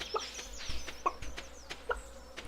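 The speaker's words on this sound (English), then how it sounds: "So, the chickens. You can pet them once a day." Farm chickens in Stardew Valley give three short, bright clucks spaced about a second apart over a quiet ambient background, with no voices.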